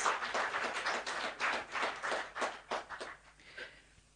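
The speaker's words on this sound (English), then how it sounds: "let's hear a round of applause for all our sponsors." An audience at a business community gathering claps for event sponsors, a loose pattering of hand claps that rises and falls for a few seconds before thinning out.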